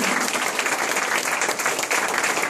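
Wedding guests at a Stuttgart reception applaud the newlyweds, a dense, steady burst of many hands clapping close by, filling the whole moment without pause.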